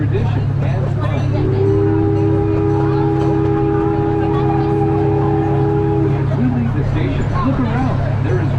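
A farm tourist train ride rolls along with a steady, loud mechanical rumble, and a sustained horn-like tone holds for several seconds midway through.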